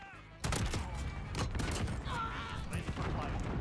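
MK2 Carbine rifle fire in Call of Duty Modern Warfare: a series of sharp, loud single shots spaced irregularly, with someone talking excitedly between and over them.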